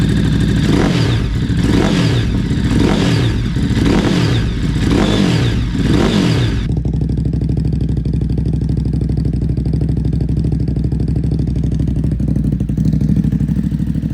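Loud, close revving from a 2022 Ducati Hypermotard 950 SP fitted with a VanDemon exhaust, in first gear: about six sharp rising-and-falling rev pulses, then a steady, throaty idle to the end.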